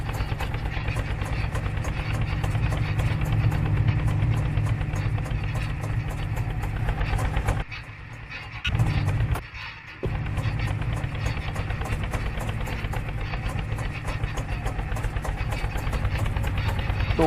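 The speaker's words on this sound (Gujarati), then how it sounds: "હવે જો આ ભાઈ ટ્રેક્ટર લઈને જાય છે." A grandfather's tractor engine runs steadily with a loud low rumble, briefly dropping off partway through before resuming as it is driven away.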